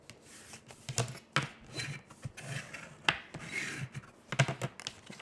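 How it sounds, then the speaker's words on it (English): A paper envelope being folded by hand along its scored crease for a slider card, giving soft rubbing and crinkling with a few sharper creasing snaps, close and quiet, with no talking. "Line it up nice and straight. And fold your score line."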